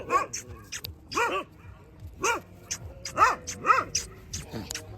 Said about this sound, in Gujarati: બે જર્મન શેફર્ડ જેવા લાગે